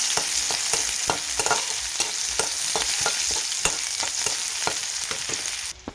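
Onion, bay leaf and cumin fry in oil in a pan, with a spatula clacking against the metal in a steady rhythm over a constant close sizzle that cuts off near the end.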